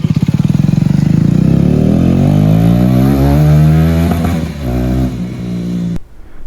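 KTM Duke 250 BS4 motorcycle fitted with a Leo Vince exhaust, revving loudly and close up, a rapid pulsing idle rising into a sustained climbing rev before cutting off abruptly.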